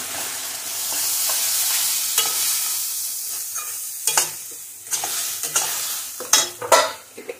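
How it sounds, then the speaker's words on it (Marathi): Ground wet and dry masala cooks in a pan for Kolhapuri mutton, with a soft continuous sizzle broken by sharp scraping strokes of a spoon stirring against the pan bottom, growing more frequent toward the end. "आता आपल्याला हा मसाला छान शिजवून घ्यायचा आहे."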